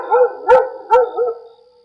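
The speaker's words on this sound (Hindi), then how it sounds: "दूर कहीं कुत्तों की आवाज।" Several dogs bark in short bursts, about four sharp yelping barks spread over two seconds, moderately distant, at a small, quiet, nearly empty railway station late at night, with no talking.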